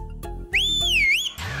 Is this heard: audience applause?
no